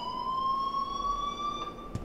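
Alarm ringing in the video game Life is Strange: a steady electronic tone holding a single pitch with bright harmonics, continuous and moderately loud, with a short thump near the end and no talking.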